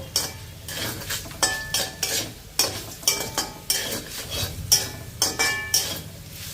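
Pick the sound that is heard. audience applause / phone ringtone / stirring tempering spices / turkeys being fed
stirring tempering spices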